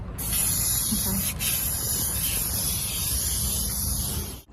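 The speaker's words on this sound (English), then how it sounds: "Why is it spraying so crappy?" A continuous hiss of an aerosol can spraying wax undercoat onto an INEOS Grenadier's underbody close by, with one brief interruption near the start before it carries on steadily.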